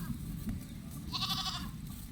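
Goats on a farm in Ihiala, Nigeria, where a black goat nurses its kid; a single clear bleat rises midway over a low, steady background rumble.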